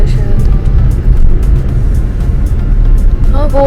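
Car cruising near Rameshwaram's temple area, a steady loud low engine and road rumble inside the cabin throughout, with faint voices in the background.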